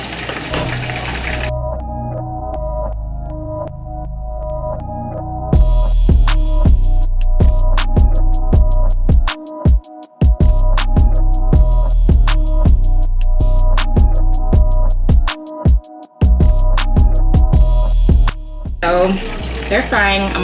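Chicken wings deep frying in hot oil, a steady loud sizzle and bubbling crackle running throughout, punctuated by repeated clicks and clatter of tongs and utensils, with a person talking now and then.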